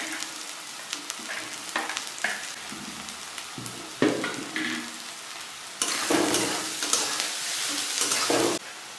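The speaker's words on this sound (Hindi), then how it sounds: "इसमें हरी मिर्च डाल रहे हैं।" Onion with cumin and green chili sizzle and fry in a pan for sev tomato curry, a steady crackling hiss with stirring scrapes that swells louder midway as the chilies go in.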